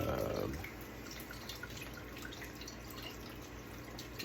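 Tap water runs in a steady, soft, even hiss that continues throughout, heard indoors while cleaning, with no talking.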